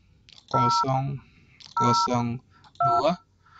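Telephone dialing tones from a Linux VoIP phone setup, three separate bursts of layered beeping tones about a second apart, clear and close.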